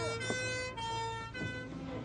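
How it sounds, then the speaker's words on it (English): Police and ambulance sirens wail, rising and falling over steady traffic rumble, sounding fairly close and continuous throughout. "4 police cars, an ambulance, and 1 black car drove up to the front of Gerald's house"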